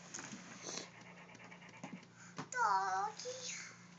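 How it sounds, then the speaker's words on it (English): Close, soft rapid panting from a dog, with a brief whimpering or squeaky vocal sound midway, in a quiet room where a family opens Christmas presents. "Doggy."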